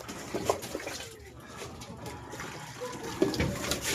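Ducks bathing in water, splashing and flapping in short irregular bursts close by, with soft watery sloshing between the splashes and a faint bird call.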